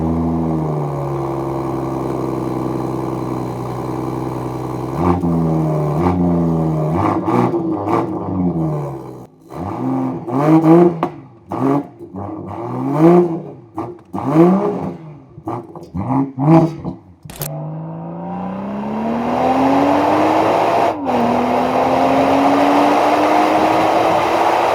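A BMW M340i engine revs repeatedly, with rising and falling sweeps, a string of quick blips in the middle and a final long climb in pitch, loud and close with no talking.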